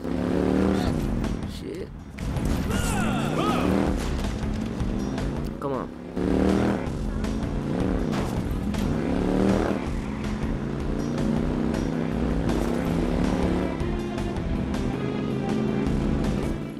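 Motorcycle engine revving and shifting in the video game Watch Dogs, rising and falling whines repeating across the stretch, loud and near, with someone talking and cursing over it.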